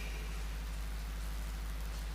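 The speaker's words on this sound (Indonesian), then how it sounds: "hujan hari ini menjadi renungan untuk kita" Steady rain pours down in a dense, continuous hiss with a low rumble beneath, filling the scene without pause.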